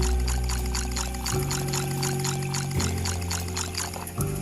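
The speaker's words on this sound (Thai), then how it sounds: "ใส่น้ำปลาเยอะๆ" Fish sauce poured in the Toca Kitchen 2 cooking game, a steady liquid pour with layered tones that step upward in pitch in three stages, loud and continuous with no talking.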